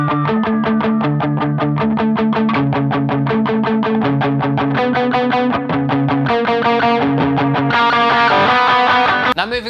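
An electric guitar played through a whammy, a blues crunch pedal and delay: a fast, steady stream of distorted, pitch-shifted notes, loud and close, climbing higher near the end.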